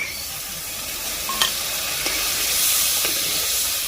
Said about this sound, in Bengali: আমরা সবসময় খুন্তি দিয়ে ভালোভাবে নাড়ি চাড়ি রাখবো